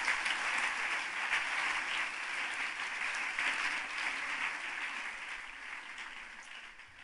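Church congregation clapping loudly and continuously during a Nazarene service in Cali, Colombia, a broad steady wash of applause that fades slightly toward the end.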